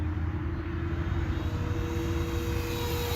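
An FMS P-47 Razorback RC model airplane flies overhead, its motor making a steady, fairly loud drone that holds without a break and has no talk over it.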